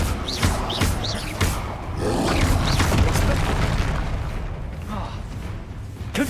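Confringo blasting-spell explosions in a Hogwarts game, deep booming blasts with rumbling roar, loud and close, a few separate hits followed by sustained crackling, with a voice speaking at times.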